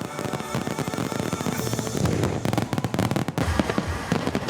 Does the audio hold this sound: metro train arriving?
no